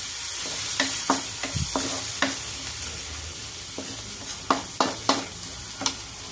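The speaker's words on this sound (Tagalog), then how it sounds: "Igisa na natin dito yan." Bagoong alamang shrimp paste sautés in a pan as a steady hiss of frying, with a utensil scraping and tapping against the pan in irregular strokes close by, and no voices.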